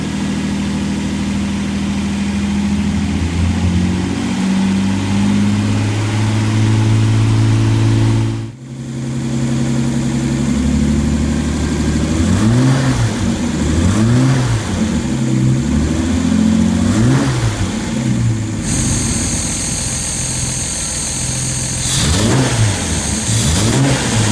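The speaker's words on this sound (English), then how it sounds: "allow me to throttle it up, get some RPM on it, and I can stand here and bring it up to temperature, let it run" A rebuilt Austin Healey 3000 engine runs loud and close on a test stand, climbing through repeated throttle revs that rise and fall, with a brief cut before the running resumes.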